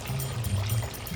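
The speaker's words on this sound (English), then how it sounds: "you want to rinse this rice until the water runs clear" Sweet rice being rinsed in cold water, a steady close pouring and swishing of water running over the grains for just over a second, with no voices.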